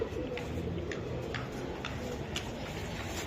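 Racing pigeons, silver birds among them, make a faint low cooing in a noisy room, broken by light regular ticking taps over a dense background hum.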